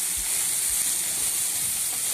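Tomatoes frying in a pan for a homemade chicken fry, giving a continuous bright sizzle and hiss with occasional low bumps.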